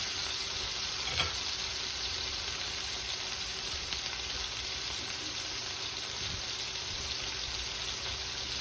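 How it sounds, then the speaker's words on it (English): Salisbury steak patties searing in a pan over slightly more than medium-high heat on an uneven burner: a constant, fairly faint hiss of frying fat with an occasional soft tap or pop, no talking. "We're just gonna get these seared."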